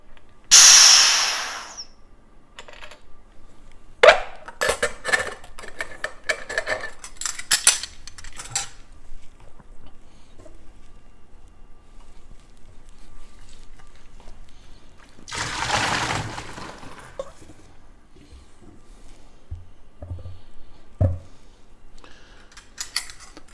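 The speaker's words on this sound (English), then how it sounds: "I'm gonna go ahead and vent off the CO2 and drain it." CO2 vented from a ball lock beer keg as it is drained, with a loud burst of gas hiss at the start and another about midway, separated by scattered metallic clanks and handling noises.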